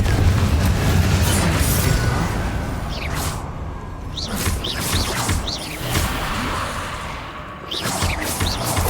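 Spell explosions from Confringo and Bombarda in a Harry Potter video game, loud booming blasts with whooshing bursts and crackles repeating over a dense roaring background.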